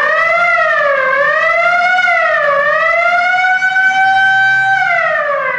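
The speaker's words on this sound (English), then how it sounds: "now that's an old-timey police siren" An old-fashioned wailing police siren rises and falls in slow, smooth sweeps, loud and sustained, with no talking.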